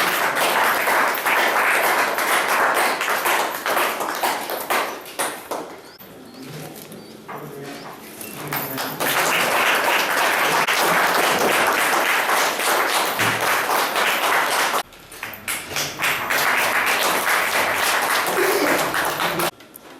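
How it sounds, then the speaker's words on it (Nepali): An audience claps loudly and densely at a school farewell program, continuing in long bursts with a quieter lull in the middle and a brief break before the clapping picks up again. "जोरदार ताली"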